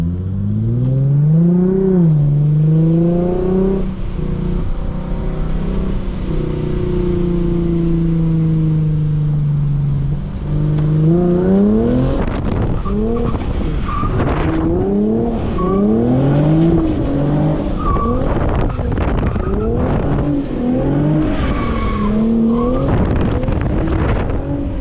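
A Lexus RC 350 drifting on a wet road in the rain, the engine revving hard and rising and falling in pitch through repeated throttle blips, with tire squeal and spray, loud and continuous from inside the car.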